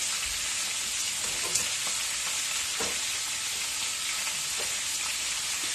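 Rice being stirred in a pan with garlic paste and parsley flakes, a constant frying hiss with soft scraping strokes, close and without any voices.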